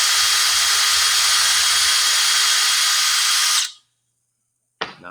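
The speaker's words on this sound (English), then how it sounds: "you're going to apply force with your drill bit straight up and down" Electric drill boring into a workpiece, a loud continuous high whine for about three and a half seconds that cuts off abruptly into silence, followed by a brief restart at the very end.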